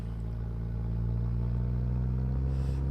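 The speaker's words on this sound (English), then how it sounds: "Oh, we got some turbo noise, that's good." A modded Dansworth C1500 pickup truck in BeamNG.Drive drones with a steady, loud engine rumble and turbo whine that rises slightly as it picks up speed, continuous and without talk.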